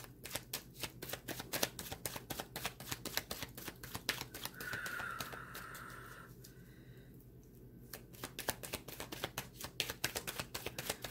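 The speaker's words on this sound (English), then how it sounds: "Let's get some more cards out." Tarot cards being shuffled and drawn, a dense rapid riffling and flicking of cards throughout, close and fairly quiet, with a brief sliding swish in the middle and no talk.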